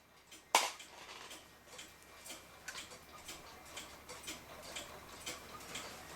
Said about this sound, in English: This is a Waterbury clock.